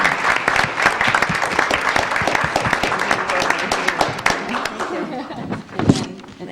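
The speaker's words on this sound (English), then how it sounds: "So if we could give them a round of applause for all their hard work." Loud, dense audience applause fills a council meeting room, with a steady roar of many hands clapping and a few sharper knocks, and voices can be heard beneath it near the end.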